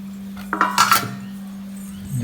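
A couple of quick metallic clinks and clatters of dishes, pots and a plate being handled close by in a kitchen while frying fish, over a steady low hum, then quiet.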